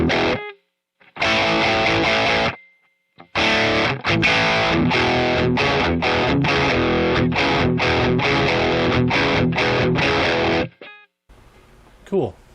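Crunchy overdriven electric guitar through a BOSS effects unit, played in loud strummed bursts and chord stabs separated by short silences, ending with a faint scratchy tail.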